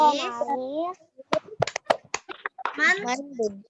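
Children in a classroom clap in short sharp bursts of rhythmic hand claps between a child's spoken phrases, close and clear, with voices before and after the claps.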